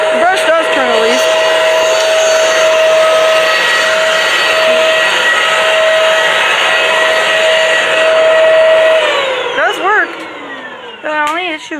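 A 2017 Bissell CrossWave 17859 floor cleaner runs loudly, with its brush turning. It makes a steady whining motor roar with a sustained tone, then changes pitch and sputters briefly near the end. Nearby voices can be heard.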